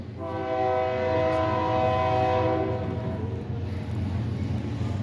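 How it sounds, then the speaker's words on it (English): A train passes close by, its horn sounding a long, loud multi-tone blast that dominates the first three seconds before fading into the rolling rumble of the cars, heard at an outdoor Scandinavian festival in Junction City. "Compete with the train."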